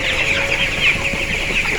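A flock of chickens in a poultry shed with freshly changed litter clucks continuously at close range, with no voices.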